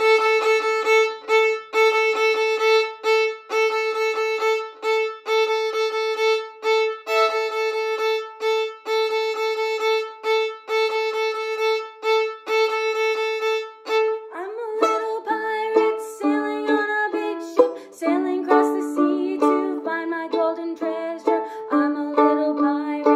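A fiddle plays the A part of a beginner tune, with repeated bowed notes on one pitch in a steady rhythm, then a moving melodic phrase, sounding close and clear with no talking.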